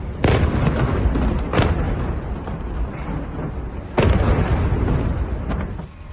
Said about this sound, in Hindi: दक्षिणी लेबनान के मरकाबा में जबरदस्त धमाका हुआ है